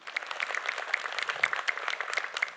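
Audience applause at an Islamic talk show, a steady patter of many hands clapping at moderate volume for a couple of seconds.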